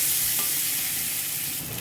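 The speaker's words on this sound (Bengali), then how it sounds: "লবণ হলুদটা দিয়ে ভেজে নিচ্ছি" Loud, steady sizzling of shrimp and chilies frying in hot oil with salt and turmeric, a dense hiss close up with no pauses.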